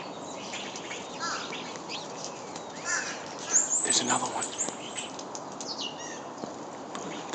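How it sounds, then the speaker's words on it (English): Blue jays calling and flying in a wintry outdoor setting, several harsh bird calls scattered through the scene with a brief flutter of wings midway, fairly near, with someone speaking briefly over them. "There's a blue jay right here."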